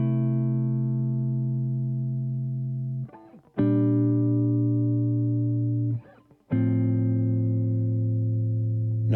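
Electric guitar strumming chords through an Empress Compressor mkII pedal, three long sustained chords each struck cleanly and held evenly, with brief muted scratches between them, close and solo.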